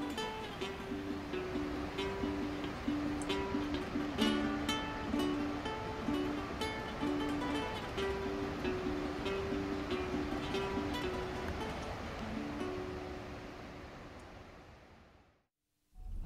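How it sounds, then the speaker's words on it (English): Continuous roaring rush of a waterfall on the Henry's Fork, Warm River, Eastern Idaho, a broad steady noise with music playing over it, fading out at the end. "It's pretty neat watching that much water fall off that ledge."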